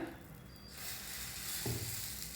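Keerai adai batter sizzles on a hot tawa: a soft, steady hiss that swells after the first moment and keeps going, with a brief low thump as the ladle lands.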